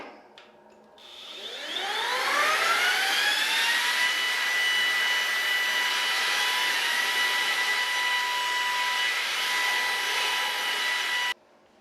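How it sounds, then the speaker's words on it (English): A vacuum cleaner whines up to speed and runs steadily at a loud, constant pitch along a bathtub corner, then cuts off abruptly. "I'm just going to run a vacuum along the corner and clean it up"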